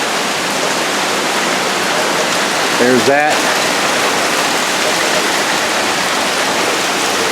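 Heavy storm rain pours and overflows house gutters by a covered porch with rocking chairs, making a steady, loud, broadband rushing wash throughout, with a brief spoken remark near the middle.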